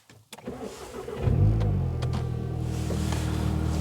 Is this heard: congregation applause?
no